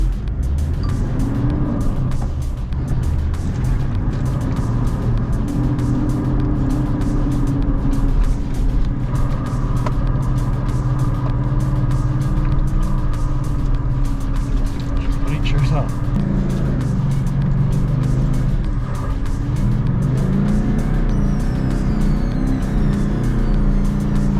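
A 4WD vehicle driving in low range third gear off-road in New Zealand, its engine droning steadily and loudly throughout with shifting pitch as it labours, while people talk over it.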